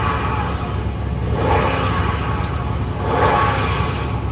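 A used car's engine idles smoothly and steadily, a low, even rumble with slight swells, heard alone without talk.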